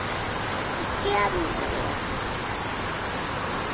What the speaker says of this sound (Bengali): দেখো কত সুন্দর বৃষ্টি হইতেছে বাইরে।